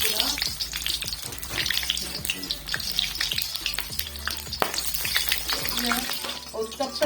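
Potato and tomato pieces fry in hot ghee with a steady, busy sizzle. Frequent scraping and clattering stir strokes sound close over a watery crackle that continues throughout.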